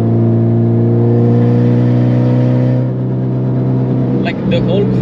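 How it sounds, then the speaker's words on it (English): Mitsubishi EVO X with an open dump valve and big turbo accelerating in fifth gear, a loud, steady droning engine note that rises, then a whooshing turbo release and chatter as the throttle lifts. "I'm just gonna accelerate a little bit."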